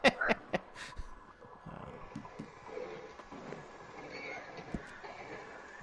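A horse in Red Dead Redemption 2 gives a sharp whinny at the start, followed by scattered hoof clops and softer rustling, moderately loud and close with no talk.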